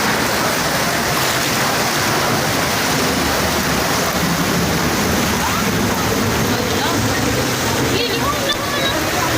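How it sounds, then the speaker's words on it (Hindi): Heavy monsoon rain in Pune drives a loud, continuous roar of rushing floodwater, dense and unbroken throughout with no clear gaps. "सुनिए ज़रा, आवाज़ें भी सुनिए, खौफनाक पानी की आवाज़ें"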